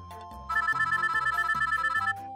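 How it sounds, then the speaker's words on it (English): A telephone ringtone chimes in a bright, rapidly repeating electronic melody, loud and close, starting after a brief quieter musical moment in a children's cartoon morning scene, with no one speaking. "Your phone is ringing."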